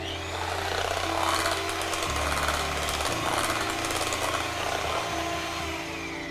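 An electric mixer beating tres leches cake batter, a loud, steady, close motor whir with a shift in pitch and load partway through as the beaters work the mixture.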